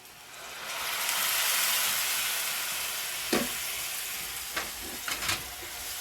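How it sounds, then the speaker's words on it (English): Peach Pecan whiskey sauce bubbles in a hot pan taken off the heat for smoked pineapple tri-tip fajitas, giving a steady loud sizzle with a few scraping stirs near the end. "Then you just stir it around, make sure it doesn't stick"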